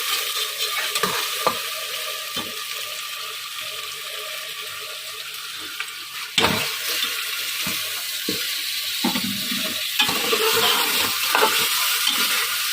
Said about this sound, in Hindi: गोश्त को हम अच्छे से फ्राई कर लेते हैं इसमें